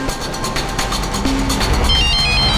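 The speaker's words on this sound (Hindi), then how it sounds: "कविता का फोन है।" A mobile phone ringtone sounds in a TV crime drama scene as a short repeating electronic melody, rising briefly over a loud background music score.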